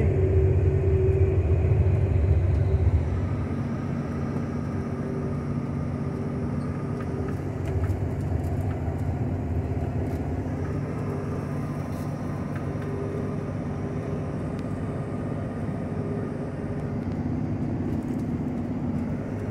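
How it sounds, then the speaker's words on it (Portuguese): A loaded VW Meteor 28-460 truck running its engine brake in third stage and tenth gear on a descent, giving a steady, loud low rumble that drops slightly after a few seconds and then holds. "descida, freio motor, terceiro estágio, décima marcha"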